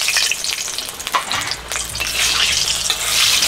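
Dried red chillies hit hot mustard oil with a loud, close crackling sizzle, and sharp pops and spatters rise and fall over a few seconds as the pan hisses steadily, with no voices.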